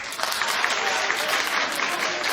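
A television studio audience breaks into dense, sustained applause, a steady wash of many hands clapping at once, loud and even for the full stretch.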